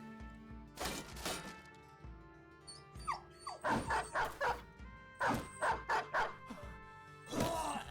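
Dog barks and yips inside the video game Battle Brothers, a run of short sharp barks in quick bursts mixed with whimpering over game music.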